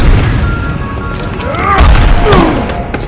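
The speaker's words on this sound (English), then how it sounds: "It looks like he just shot you in the face." A loud shotgun blast in The Wolf Among Us, a heavy boom with debris and ringing tails, a second crash following, set against background game sound.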